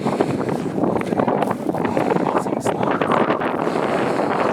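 Strong gusts of wind roar steadily across an exposed mountain ski area in the Van lake region, buffeting loudly and continuously at close range.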